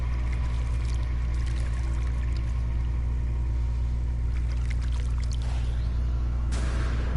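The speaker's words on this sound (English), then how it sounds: "Look, here's that water noise again." Plants in the video game No Man's Sky give off a steady pouring, bubbling water noise over a constant low rumbling hum, sustained and moderately loud throughout.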